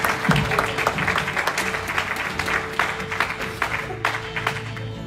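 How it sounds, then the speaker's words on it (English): Congregation clapping for the Lord during a church service, dense continuous hand claps with loud accents scattered throughout, filling the room with a steady wash of sound. "give the Lord a hand clap"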